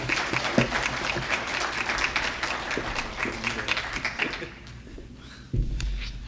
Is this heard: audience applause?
yes